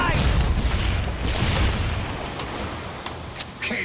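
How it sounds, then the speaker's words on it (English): A loud grenade blast in the shooter Killing Floor 2, a heavy booming burst up front that rumbles and slowly decays, with gunfire and scattered game sounds continuing behind it. "Grenade!"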